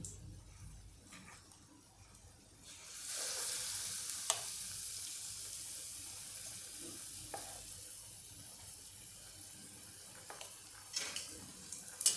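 Fasting-style potato vada (batata vada) dropped into hot oil, a steady bright sizzle that jumps up sharply a few seconds in and keeps bubbling, with occasional soft clinks of a utensil against the pan.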